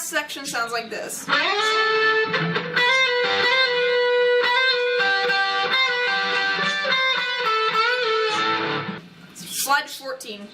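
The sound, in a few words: electric guitar playing interlude solo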